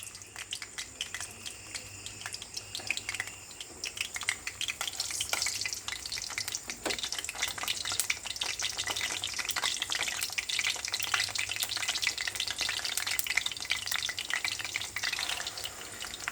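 Egg moglai frying in hot oil, a faint, steady crackling sizzle with dense tiny pops that carries on for the whole stretch, close by and fairly quiet.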